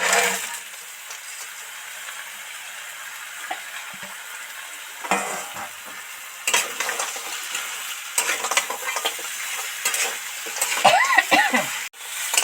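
Crabs stirred and fried in a spiced chilli masala in a pan for a red crab curry, giving a steady low sizzle with irregular scraping stir strokes and clinks growing busier toward the end.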